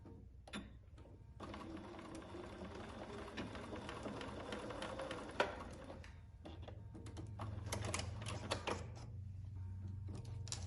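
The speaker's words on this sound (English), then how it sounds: "Do a little back stitch once I get into this tape. Okay, so I sew with my hands really close." A sewing machine back-stitches bag fabric into tape in short mechanical bursts of rapid stitching, separated by brief pauses, quiet and close by, with no talking.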